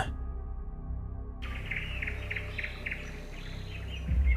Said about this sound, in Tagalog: Iyon ang tunog ng tiktik.